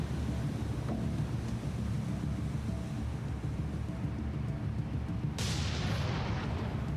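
Heavy naval guns boom across open sea in a War on the Sea battleship-versus-cruiser naval battle, under a constant rumble of wind and waves, with one sharp, bright blast near the end.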